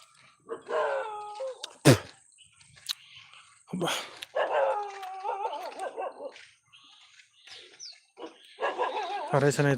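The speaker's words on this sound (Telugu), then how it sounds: "నీ కుక్కలు" Dogs yelp and bark in short bursts, with whining, howl-like calls in between and sharp thumps, close by and fairly loud.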